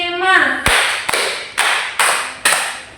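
A classroom of pupils claps in unison to a teacher's counting routine, with five loud, sharp claps in a steady rhythm and a voice heard briefly just before them.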